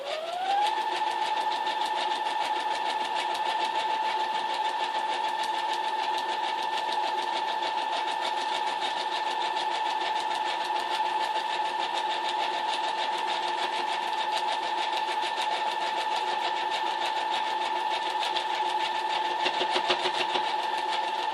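Stitching through a newspaper quilt, a sewing machine hums in one long, even run with a steady motor whine that stays constant, close and moderately loud, no voices.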